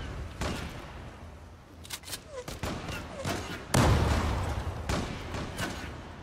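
Explosions and gunfire in the online shooter Zula during a team deathmatch, a series of sharp bursts and shots with a larger blast in the middle, loud and close, with a voice talking over parts.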